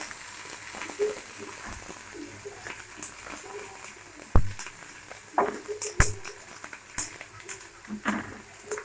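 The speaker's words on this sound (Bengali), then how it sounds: "পেঁয়াজটা আমরা হালকা করে ভেজে নেবো" Onions frying lightly in a pan make a faint, low crackle, broken by sharp clicks and scrapes of stirring, heard up close with no talking.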